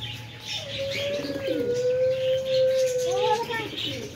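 Pigeons cooing in a soft, steady run of low calls, with a few brief chirps and tweets from other birds nearby, set against a faint background hum.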